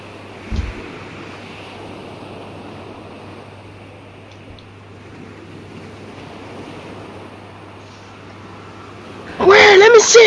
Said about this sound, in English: Just gonna listen to the sound of the sea.